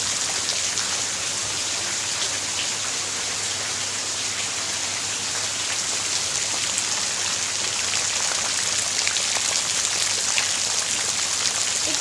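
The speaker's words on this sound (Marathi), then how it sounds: "जोराचा पाऊस पडतोय." Heavy rain pours down steadily outdoors, a dense, continuous hiss of drops striking surfaces, loud and unbroken throughout with no voices.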